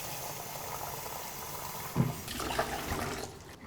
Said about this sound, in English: I put a little bit of water.